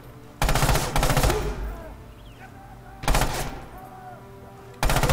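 Pistol shots ring out in a competitive Axis-versus-Allies shooter tournament match, arriving as four loud, close bursts of rapid cracks separated by quieter ambient gaps.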